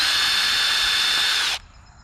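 A power drill backs a self-tapping screw out of a trailer chassis where the lights came loose, a steady high whine running close and loud for about a second and a half before it cuts off abruptly.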